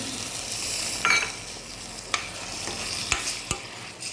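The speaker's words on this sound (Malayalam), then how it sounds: "കുറച്ച് തിളച്ച വെള്ളം ഇട്ട് കൊടുക്കുന്നുണ്ട്" Masala curry simmers and sizzles softly in a pan after boiling water is added, a steady low bubbling hiss broken by a few sharp clicks of a spoon against the vessel.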